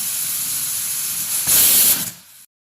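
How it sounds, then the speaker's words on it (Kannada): A pressure cooker cooking mutton with salt, oil and water lets off a loud, steady steam whistle that swells into a harsher hiss near the middle, then cuts off abruptly, with no voices. "ಈಗ ಇದಕ್ಕೆ ಒಂದು 6 ವಿಜಿಲ್ ಬರ್ಸ್ಕೊಳ್ಳೋಣ."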